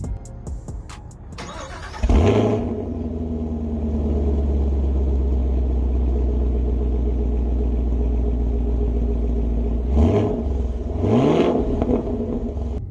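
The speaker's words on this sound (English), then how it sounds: "I even made the salesperson rev it a little bit just to hear it" A Camaro engine starts with a sharp crank, settles into a deep rumbling idle, then revs twice near the end, loud and close.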